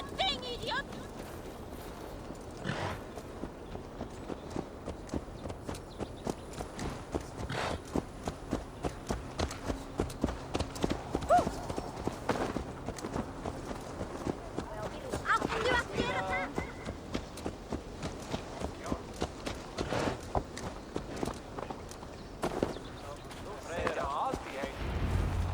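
Horse hooves clip-clop at a walking pace in a steady rhythm in Assassin's Creed Valhalla, with speech and background game sounds mixed over them.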